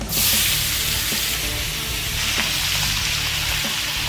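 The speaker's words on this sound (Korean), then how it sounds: "이 그레이비랑 버터랑 기름이 나온 이 매지컬한 오일에다가 야, 야채를 볶아줍니다" Vegetables saute in steak drippings, gravy, butter and oil with a loud, close, dense sizzle that hisses steadily throughout, broken now and then by faint stirring knocks.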